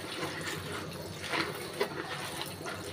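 Small mola fish being rinsed and washed in water, with soft continuous splashing and swishing close by, steady and moderate in level with a few brief louder splashes.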